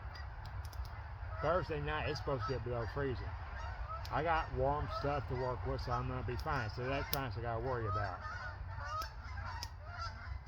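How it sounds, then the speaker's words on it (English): Geese honk loudly and repeatedly in a noisy flock close by, while someone talks over the din. "So you can hear the geese are probably noisy behind me."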